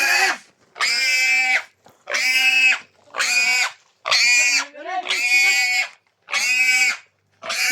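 Pigs grunt and squeal loudly in repeated bursts, about eight harsh calls separated by short pauses, close by, as a pig is readied for a ritual offering.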